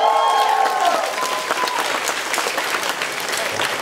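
Crowd at a metal band concert in Kaohsiung breaks into sustained applause, dense clapping from many hands, starting with a faint ringing tone from stage equipment and holding steady throughout.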